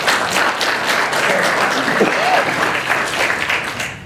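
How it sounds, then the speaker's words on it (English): Applause from a crowd for the National Park Service at a welcome event in Tuskegee, Alabama: dense, steady clapping that holds for about four seconds, with faint voices underneath and a slight fade at the end. "let's give them a round of applause"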